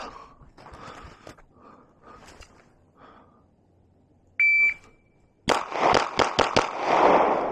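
Gunshots from a Glock 45 pistol at a shooting range: a steady tone sounds first, then a fast string of five or six loud, sharp shots close together near the end.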